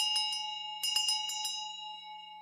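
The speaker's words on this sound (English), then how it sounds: "Have you not heard the new bell? No, evidently I hadn't. Well, let me play it for you." A new tea bell rung on a radio show: a quick burst of bright metallic strikes, a short pause, then another cluster of rings, all over a sustained, clear ringing tone that lingers near and loud to the end.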